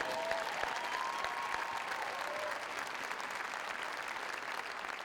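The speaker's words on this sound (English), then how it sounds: "give DJ a round of applause" Crowd applause for a volleyball strength coach at a championship celebration, a steady wash of clapping that holds evenly through the clip at moderate distance.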